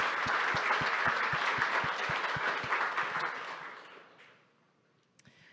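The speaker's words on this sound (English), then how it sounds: "And we'll give a round of applause." An audience at the CYstarters Demo Day 2022 event gives a round of applause, a dense burst of many hands clapping that fades out over a few seconds into near silence.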